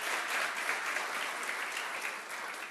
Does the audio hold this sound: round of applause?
yes